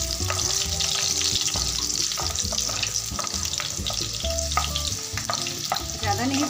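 Small pieces of garlic fry in a pan for red sauce pasta, giving a dense, lively sizzle with frequent crackles and utensil scrapes throughout, close and steady.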